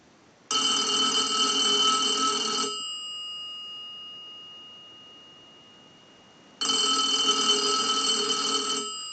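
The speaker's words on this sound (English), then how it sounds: "we'll send a ring cycle to the unit. We're going to let that go a few times." An electronic bell in a Northern Electric 233QF three-slot payphone rings in two long bursts separated by a few seconds of quiet, loud and close, with no voices.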